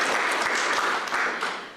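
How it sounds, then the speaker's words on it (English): An audience gives a warm round of applause at a World Drowning Prevention Day event, dense clapping filling the short stretch at moderate loudness and easing off toward the end. "Yeah, round of applause."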